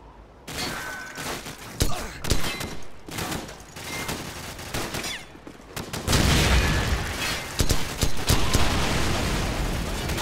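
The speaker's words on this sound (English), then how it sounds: "Frag out." Frag grenade explosion and sustained gunfire in Call of Duty 4: Modern Warfare, dense close bursts of rifle shots with thumping impacts and a heavy blast rolling into more firing, loud throughout with voices mixed in.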